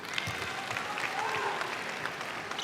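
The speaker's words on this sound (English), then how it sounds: "The oohs, the ahs of the M&S Bank crowd" A netball crowd at the M&S Bank arena fills the air with a broad, continuous wash of cheering and clapping, with a rising vocal swell of oohs in the middle, heard from within the stands.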